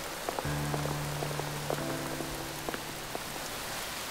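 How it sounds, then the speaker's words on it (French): Steady rain patters on a surface in a cartoon, a constant hiss of drops with a low hum running underneath. "Et sous la pluie en plus"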